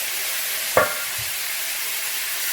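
Chopped tomatoes hit hot oil and spices in a pan for chana masala, giving a short splash followed by a steady, even sizzling hiss that carries on without talk.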